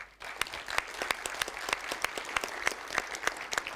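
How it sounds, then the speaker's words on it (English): Conference audience applauding in a room, scattered individual claps standing out crisply over a softer wash of clapping, moderately near and steady without talk. "Please give a warm applause to each other for being here."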